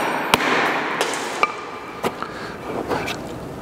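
A tipping hammer splits natural stone in landscaping work, giving a handful of sharp, irregularly spaced metallic strikes that ring briefly against a quiet background.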